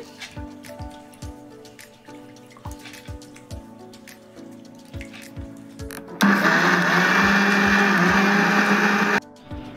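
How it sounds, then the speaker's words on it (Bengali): An electric mixer grinder grinding soaked urad (biuli) dal into a paste, whirring loudly and steadily for about three seconds, then stopping abruptly. Before and after, quieter regular tapping and clicking sounds repeat nearby. "এখন আমি মিক্সিতে পেস্ট করে নিচ্ছি"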